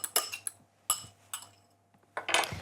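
A fork whisks one egg in a bowl, giving a few irregular bursts of quick metallic clinks and taps separated by short pauses, close and fairly quiet.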